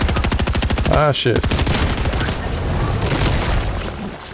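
Automatic gunfire in Fortnite rattles in fast, rhythmic bursts, loud and close, while a player briefly exclaims and the shooting thins out toward the end.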